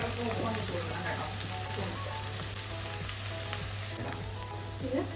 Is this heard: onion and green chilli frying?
yes